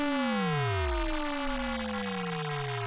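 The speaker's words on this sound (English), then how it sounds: "But if you frequency shift it down" A saw wave synth run through a frequency shifter and shifted down, its buzzy tone turning inharmonic and metallic as the lowest partial dives and folds back up, sustained and steady with no voices.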